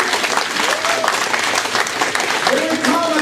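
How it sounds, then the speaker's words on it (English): A church congregation claps in praise during a Sunday service, dense sustained applause filling the room with voices calling out over it. "Let's give the Lord a clap of praise."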